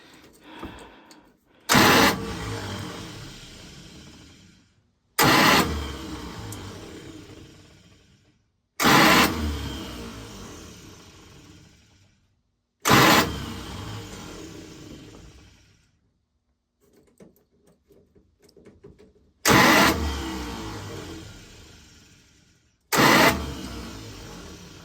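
A 1954 International Metro engine is cranked over in six separate loud bursts with pauses between, each attempt sputtering briefly before dying away; no talking.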